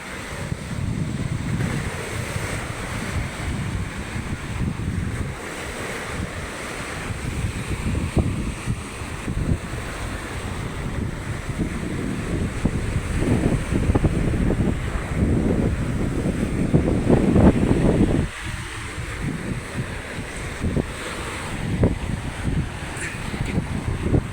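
Rough sea during the southwest monsoon: big waves break and surge in a constant roar while strong wind buffets the microphone, loud and unbroken near a seawall where fishing boats stay moored.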